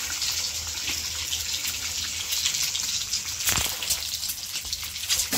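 Water runs steadily from a tap while potatoes are washed, a continuous close gush with light splashes and one brief louder splash.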